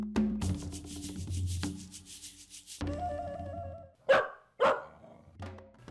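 A pup barks in a few sharp, close bursts near the end, after a stretch of rubbing and shuffling noises.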